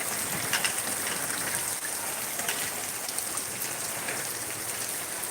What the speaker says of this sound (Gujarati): વરસાદ જરાક હરવો પડ્યો એવું લાગે